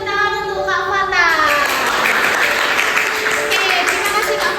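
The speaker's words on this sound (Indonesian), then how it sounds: "Beri tepuk tangan untuk Kak Fata." Applause from a school audience at an OSIS short film presentation, a broad wash of clapping mixed with children's voices and chatter throughout.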